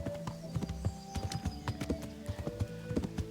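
A horse trots and whinnies in Kingdom Come: Deliverance, with steady clip-clop hoofbeats at a moderate distance and no talk over them.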